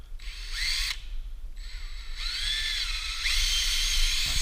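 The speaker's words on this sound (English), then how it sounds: "If you don't drill a pilot, you can split the wood." A power drill bores a pilot hole into a wooden entry door, its motor whining in three short bursts with brief pauses between them, close and fairly quiet.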